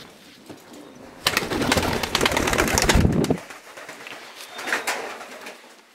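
A racing pigeon, a marathon competition bird, coos in throaty bursts close by, loud in the middle and softer toward the end, with no talking.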